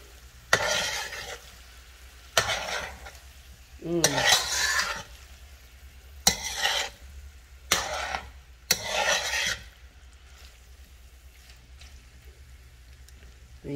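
Saltfish rundown being folded gently in a pot, giving a few separate bursts of scraping and stirring with short pauses between them, close by and with no talking.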